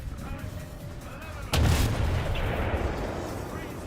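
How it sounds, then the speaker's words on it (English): A Halo-style sniper rifle fires once in a video game, a sudden sharp crack followed by a heavy booming, rumbling tail that lingers for a couple of seconds over faint background game noise. "There's that Halo sniper rifle whip again."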